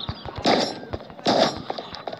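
Two heavy gunshots from an AK rifle in the video game Occupation, about a second apart, loud and close, with small clicks and faint noise between them.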